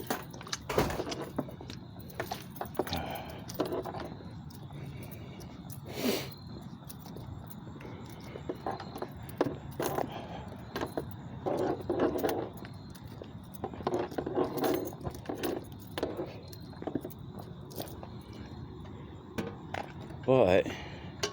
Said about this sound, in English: Yeah, I have the keys.